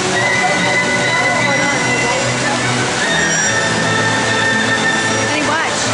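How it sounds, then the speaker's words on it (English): Water fountains at Crown Center splashing in a constant loud rush, a steady spray with no pauses, heard alone without talk. "Look at the fountains."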